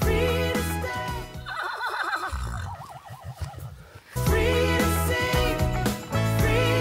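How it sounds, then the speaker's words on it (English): A horse in rural Charente, France, lets out a loud whinny with wavering, trembling pitch in the middle, framed by a music backing track that plays before and after. "He'll do a neigh as we're halfway up the hill, and then just before we go out of sight, he'll give us another one."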